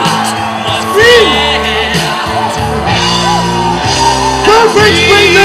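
Crowd screaming, whooping and cheering at the Hornbill international rock contest, a loud sustained roar of many voices with rising shouts and yells layered over music.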